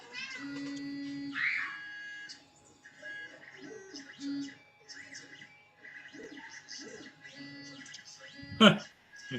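A house cat meows a few times indoors, fairly close, with people talking in the room around it.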